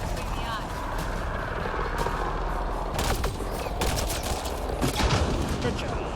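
A hostile shuttle arrives in Mass Effect Andromeda amid a steady engine roar and rattling bursts of gunfire, loud and continuous, with a voice speaking over the combat.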